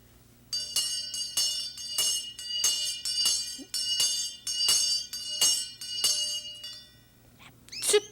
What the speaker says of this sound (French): prends la grosse cloche.